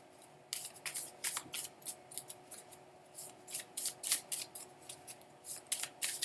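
A deck of tarot cards being shuffled by hand gives a string of quick, crisp riffling and sliding bursts in an uneven rhythm, quiet and close, against a faint steady hum with no speech.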